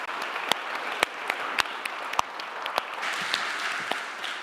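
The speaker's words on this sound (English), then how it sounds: "and applause to our speakers" A conference hall audience applauds the speakers at the close of an economics panel: a steady wash of clapping with a few sharper, closer claps standing out, no talk over it.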